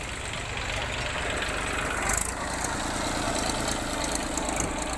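Mahindra 575 tractor engine running steadily in a muddy field where tractors keep getting stuck, a continuous close, loud rumble with a brief louder swell midway and no voices.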